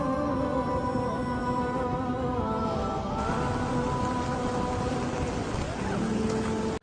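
Heavy rain falling at Masjid al-Haram in Makkah, a dense continuous roar of downpour mixed with crowd murmur and tonal background sound, loud and unbroken throughout.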